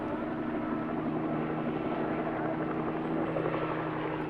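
A helicopter from a 1976 film scene hovers with a steady, loud rotor drone and engine whine, continuous and even throughout.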